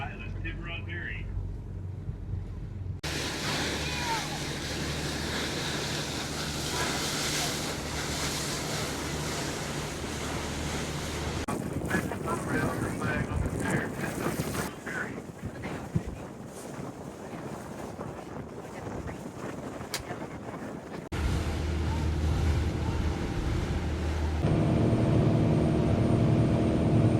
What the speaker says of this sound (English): On the Angel Island ferry.